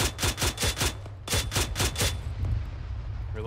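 Arma 3 firefight near a base compound: two close, loud bursts of rapid rifle fire, roughly ten evenly spaced shots, followed by quieter ambient noise.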